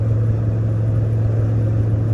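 A 1973 Ford F250 4x4 crew cab truck whose oil-burning engine is warmed up from hard driving idles with a steady low hum. The tone stays even and close for the whole short stretch, with no voices.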